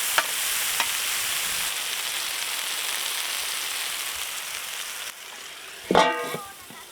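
Chicken tawa fry sizzling in a pan outdoors in a village setting, a continuous loud crackling sizzle with a sharp burst of clatter and spatter near the end, as if stirred or lidded.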